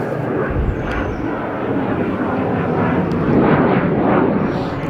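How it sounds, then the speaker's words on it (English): A military jet passes overhead, its broad roaring rush swelling louder toward the end while heard from inside a Chevrolet Camaro SS. "it's a military jet"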